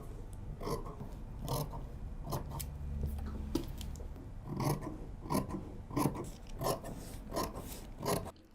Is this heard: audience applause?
no